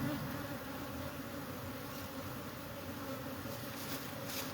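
Bees swarm during removal of a hive from a cable box, giving a dense, continuous buzz that stays close and steady throughout, with no voices.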